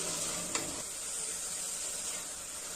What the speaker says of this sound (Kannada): ಈಗ ಮೆಂತ್ಯ ಸೊಪ್ಪು ಚೆನ್ನಾಗಿ ಫ್ರೈ ಆಗುತ್ತೆ